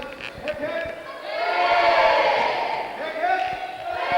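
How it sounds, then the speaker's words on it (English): A crowd of children and adults cheers for Father Christmas at a festive gathering, a dense, sustained roar of many voices that swells louder midway and stays strong to the end. "big cheer for Father Christmas"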